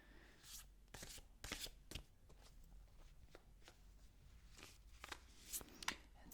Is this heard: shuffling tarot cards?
yes